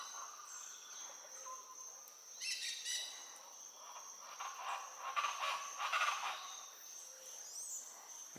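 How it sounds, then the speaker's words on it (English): Many different birds sing and call in a forest in Ecuador. Varied chirps, trills and whistles overlap at moderate distance above a steady high insect buzz, with no voices. "You can hear a lot of different birds."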